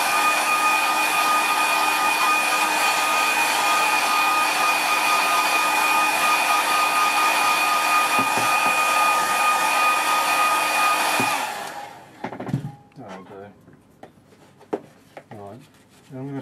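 A hair dryer blows loud and steady for about twelve seconds to dry a watercolour landscape painting, then shuts off, leaving faint brushing and rustling sounds.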